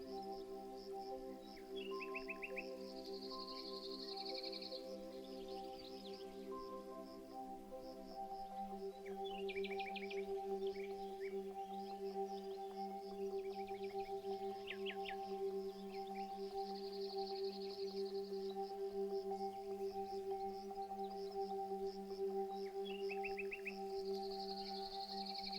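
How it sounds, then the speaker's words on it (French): Birds chirp and trill in scattered bursts over a steady, sustained musical drone, the bird calls light and somewhat distant throughout. "Tu peux aussi entendre autour de toi les oiseaux chanter"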